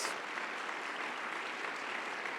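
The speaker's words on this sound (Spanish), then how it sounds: "Dale un aplauso al Rey de Reyes." A church congregation claps steadily during a Sunday sermon, a dense, even wash of applause heard from a distance, fairly soft with no voices over it.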